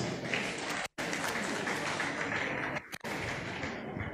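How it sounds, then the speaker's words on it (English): An audience at an annual banking lecture applauds in a steady, dense wash of clapping, with two brief drops where the sound cuts out. "Please, let's give them a warm round of applause."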